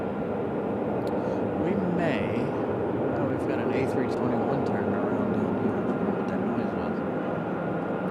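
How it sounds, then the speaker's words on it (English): An Airbus A321 airliner taxiing and turning around at Raleigh-Durham airport gives a steady, distant jet engine hum that stays level throughout, with a person talking over it. "A321 turning around down here."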